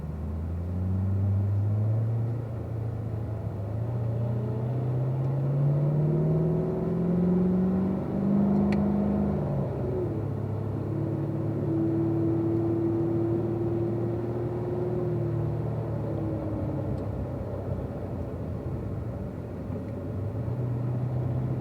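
A car rolls out on a warm-up lap, its engine droning steadily with rising and falling pitch as it shifts through gears, a continuous close rumble with no talking.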